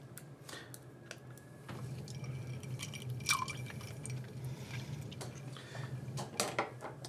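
Water poured into a dessert syrup mixture of dark Jamaican rum and corn syrup: a soft, steady trickle and drip of liquid close by, with faint kitchen clatter and no talking.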